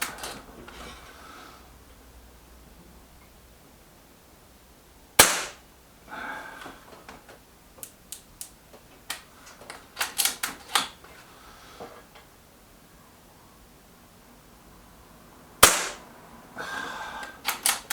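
A Gamo Coyote Tactical air rifle fires two sharp, crisp shots several seconds apart, with lighter mechanical clicks and taps between them against a quiet background.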